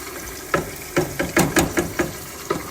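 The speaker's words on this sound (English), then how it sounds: "you pour this jollof rice sauce into here" Jollof rice sauce poured over sautéed onions in a pot and stirred, giving a series of short scraping and sizzling bursts at an irregular pace, close and moderately loud.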